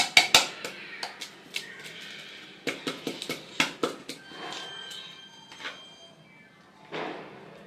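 Butter being stirred in a bowl while cooking at home, with a spoon knocking and scraping the sides in an irregular series of sharp clinks and taps, fairly close and alone.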